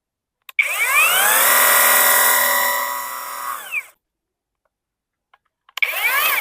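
A Vitals Master AM 1860N3 cordless pressure washer whines up and sprays a jet of water for about three seconds, winds down to silence, then starts again briefly at the end.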